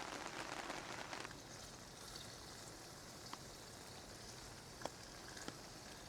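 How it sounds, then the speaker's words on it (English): Soft, steady patter of rain falling on a tent nearby, with a few sharper drips landing now and then. "Rain's still coming down out there."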